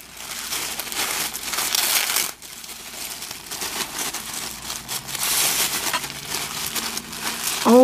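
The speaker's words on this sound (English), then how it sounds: "She has this wrapped up in orange tissue paper." Orange tissue paper around a Halloween gift crinkles and rustles steadily as it is pulled open, loud and close, with a brief quiet pause partway through and no talking.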